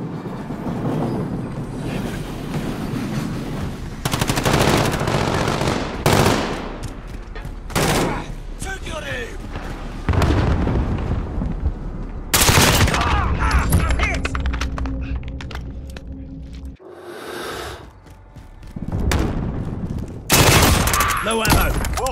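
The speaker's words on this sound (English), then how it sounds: "Cluster strike is go for launch" Cluster strike explosions and gunfire in Call of Duty headquarters mode rip through in loud bursts, with dense rattling volleys, heavy booms and brief lulls between them.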